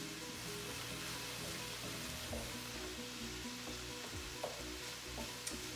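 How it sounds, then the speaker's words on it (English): Taco soup stirred in a pot, a continuous bubbling simmer close by with occasional soft scrapes and clinks of the spoon, no voices. "And you're just gonna stir that up."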